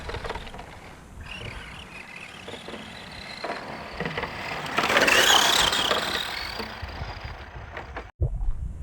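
Tamiya BT-01 radio-controlled car driving on a dirt track, a steady whirring electric motor with rising and falling pitch as it accelerates, brakes on the rear wheels and turns, ending in a brief thump.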